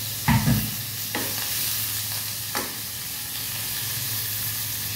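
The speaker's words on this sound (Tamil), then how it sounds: "இதையும் தக்காளி நல்லா வதக்கி எடுத்துடலாம்." Chopped tomatoes sauté in a pan for a cowpea and potato gravy, a soft, even sizzle with a few scraping stirs near the start and another later, over a low steady hum.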